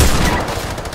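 Loud, dense burst of machine gun fire in Fortnite, a continuous rattling volley filling the whole second at close range with no voices over it.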